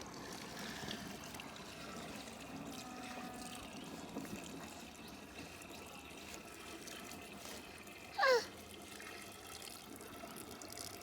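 Steady running water flowing from a farm water source used to water cows in Jamaica, a faint continuous trickle and splash with a brief higher chirp partway through.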